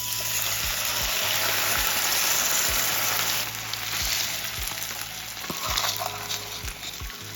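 Rice, mixed beans, vegetables, chorizo, chili, garlic and passata fry together in a pan with a constant close sizzle, while a spatula stirs and scrapes at a regular pace.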